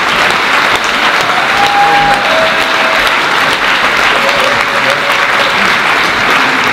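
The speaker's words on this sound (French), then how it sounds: "je pense qu'on leur doit un gros applaudissement" An audience at a round table event on international water sharing applauds, with dense, sustained clapping filling the room throughout and no voices rising above it.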